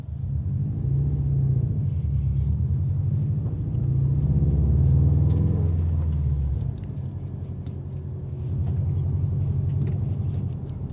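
A 2020 Subaru STI with an ETS exhaust system cruising down the road, its steady low exhaust drone and engine rumble rising slightly mid-way then easing, heard from inside the car with no talking.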